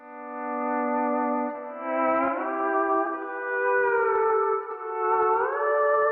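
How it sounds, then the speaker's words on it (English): A sustained pop country pedal steel guitar loop with long gliding, harmonically rich notes that swell and slide between pitches, played alone with a soft echo. "And so I ended up finding this pedal steel loop, which sounds like this."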